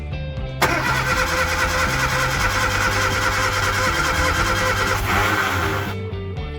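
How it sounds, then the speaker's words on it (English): A barn-find woodie wagon engine, unrun for 55 years, cranks and catches, then runs loud and steady with a rising rev toward the end before settling, close to the mic. "Much to our joy, it fired right up."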